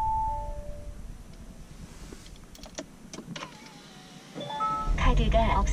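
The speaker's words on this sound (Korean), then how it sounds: "키를 터치 했는데 이렇게 시동이 걸렸습니다." An Audi A7 started by a touch of the key: faint chimes and electric whirs come first, then a louder engine rumble swells at the end, with someone talking throughout.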